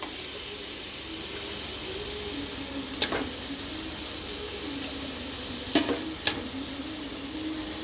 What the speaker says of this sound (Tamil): நல்லா வதங்கிட்ட அப்புறம் நம்ம ஊற வச்ச கறியை போடணும்.